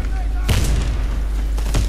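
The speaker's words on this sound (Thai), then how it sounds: "โดนระเบิดโดนระเบิด" Explosions in the Warface shooter game, a loud blast around half a second in and another near the end, set over constant low game rumble and background noise.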